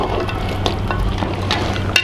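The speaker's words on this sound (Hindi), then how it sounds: "थोड़ी देर लहसुन अदरक को पकने के बाद इसमें हल्दी मिला दें और इसको चलाते रहें" Garlic and ginger frying in oil with turmeric for mutton korma, stirred steadily; a constant close sizzle runs under regular scraping strokes of the spoon, with no talk.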